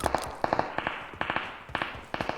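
Gunfire in a Turkish online shooting game: a string of sharp, snappy shots in small bursts of two to four, fairly close and loud, with short gaps between groups.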